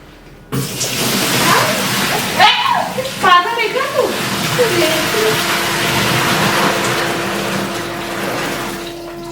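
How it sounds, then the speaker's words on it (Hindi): Hot water gushes steadily into a tub for washing clothes, a continuous rushing pour with a hum underneath, while people talk over it partway through. "गरम पानी डाला"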